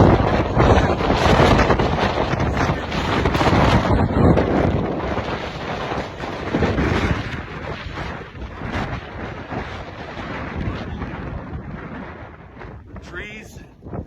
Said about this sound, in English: These are close to hurricane force gusts.